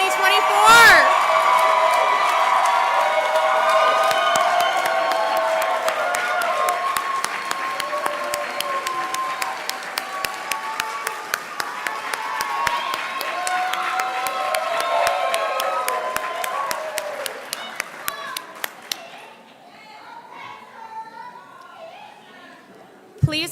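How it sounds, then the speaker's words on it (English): Crowd at a spring 2024 nursing pinning ceremony applauding steadily with cheers and whoops, loud and sustained for about twenty seconds before thinning out, with chatter mixed in. "Let's have a round of applause for the spring nursing class of"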